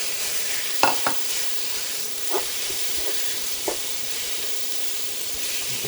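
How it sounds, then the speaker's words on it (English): Pork butt sears in hot achiote oil, giving a loud, steady sizzle and hiss from the pan with a few scraping stirs and clinks, close and continuous with no talking. "All right, we're gonna throw our pork butt in."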